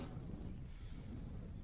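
Low, steady wind rumble against the microphone, continuous and fairly soft.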